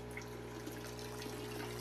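Water runs steadily into storage containers in a home aquarium fish room, a faint continuous trickle over a constant low hum of pumps or filters.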